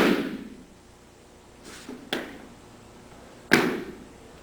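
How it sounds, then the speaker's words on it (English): A weightlifting shoe's heel slaps a lifting platform during split jerk footwork: four sharp, loud impacts at uneven intervals, the first and last strongest, each ringing briefly with nobody talking. "slapping the platform with my foot with an initial heel strike like this"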